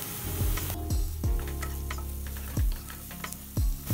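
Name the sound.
onion frying in a pan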